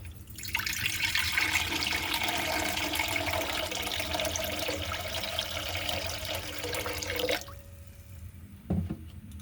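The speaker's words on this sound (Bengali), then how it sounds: "কড়া চাপিয়েছি এবারে এর মধ্যে জল দেবো" Water pours in a steady, loud rush into a pan set on a stove for cooking rice, lasting about seven seconds before stopping abruptly, followed by a brief clatter.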